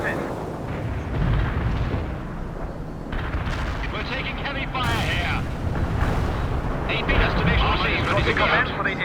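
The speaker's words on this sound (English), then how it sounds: "We're taking heavy fire here." Heavy gunfire and artillery rumble on without pause in the video game World in Conflict, dense booms and rattling shots layered with radio voices talking over the battle.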